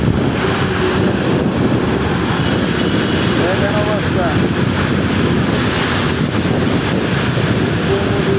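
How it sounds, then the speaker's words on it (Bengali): Heavy rain pours down in a constant, loud, broadband roar, with wind buffeting the microphone. Someone speaks briefly over it. "দেখা যায় প্রচুর বৃষ্টি হচ্ছে।"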